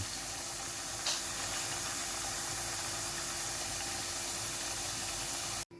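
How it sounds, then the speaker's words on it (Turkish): Potatoes fry in hot oil in a home kitchen with a steady, loud hiss and sizzle that stays even throughout before cutting off at the end. "Şu an patateslerimiz kızarıyor efendim."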